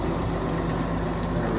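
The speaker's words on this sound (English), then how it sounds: "Yeah, we let the clutch out. And we're moving." A Case 2870 tractor engine runs steadily as the machine moves off, a heavy low diesel drone with a constant harmonic hum, close and unbroken with small faint ticks above.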